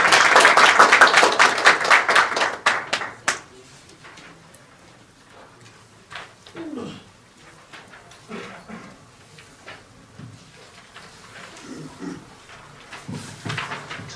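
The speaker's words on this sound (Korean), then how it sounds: "큰 박수 부탁드리겠습니다." An audience at a lecture on computational thinking bursts into loud, dense applause for the speaker, then thins after about three seconds into scattered claps and faint room noise, with a few isolated claps returning near the end.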